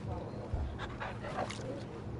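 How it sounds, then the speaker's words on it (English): Soft, faint dog whimpers from the video game Final Fantasy 16, brief whiny cries over low background sound and murmured talk. "loyal dog who turns into an ancient wolf of ice"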